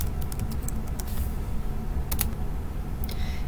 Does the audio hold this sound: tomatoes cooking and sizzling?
no